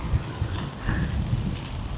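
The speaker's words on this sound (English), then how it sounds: "The rain's definitely hit." Heavy wet-season rain pours down in Da Nang, Vietnam, a dense, close roar of water with wind gusts swelling through it and no one speaking.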